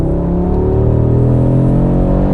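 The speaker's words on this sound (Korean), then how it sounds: "그냥 직렬 5기통 엔진과 7단 DCT 변속기예요." An Audi RS3 with an inline five-cylinder engine and a 7-speed dual-clutch gearbox pulls hard under acceleration, a loud, steady, rising engine drone with layered harmonics heard close and continuous, with no talking.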